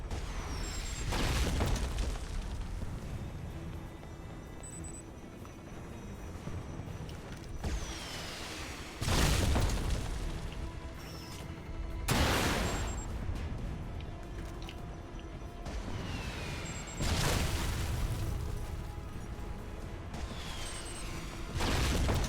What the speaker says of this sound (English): would you please fucking explode?